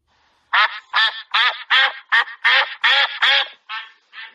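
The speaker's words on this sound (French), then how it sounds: "Oui, le canard." A duck quacks about ten times in a quick, uneven rhythm, loud and close, with nothing else audible.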